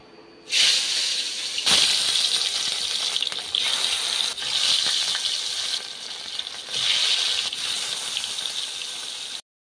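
Steady sizzling and crackling hiss of rohu fish frying in hot mustard oil in a wok, loud and close, with a few surges as pieces go in.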